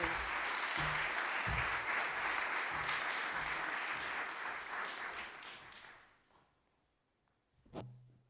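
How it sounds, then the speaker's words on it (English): Sustained applause from a literary prize audience for shortlisted writers: thick, even clapping that holds for about six seconds, then thins and dies away, with a single soft knock near the end. "So let's give another round of applause for our marvelous writers"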